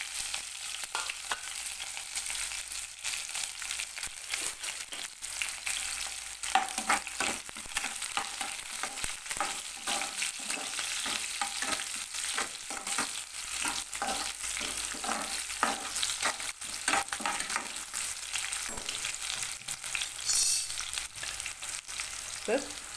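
Chopped large onion and curry leaves fry in a pan for a poriyal, a steady hissing sizzle with stirring scrapes throughout, close and continuous with hardly any talk.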